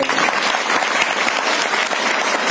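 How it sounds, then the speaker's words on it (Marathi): Sustained, dense applause from a crowd at a Marathi devotional comedy kirtan, steady and loud throughout with no break. "यांच्यासाठी जोरदार टाळी वाजवा"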